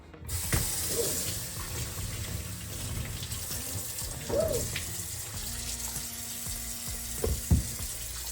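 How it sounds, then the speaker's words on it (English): Running water from a tap streams steadily while an item is rinsed out at a sink after cleaning with The Pink Stuff paste, with a few clicks and knocks of handling over the constant flow. "Okay, let's rinse it out."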